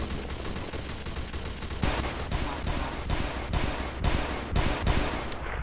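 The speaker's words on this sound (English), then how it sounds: "he's got on the Gatling gun" A Gatling gun fires in the World War II shooter RC 1944, a steady rapid stream of loud, close shots with sharper cracks landing rhythmically, and no talking.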